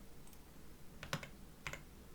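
Two short bursts of computer keyboard typing, a few quick clicks each, faint over a steady hiss.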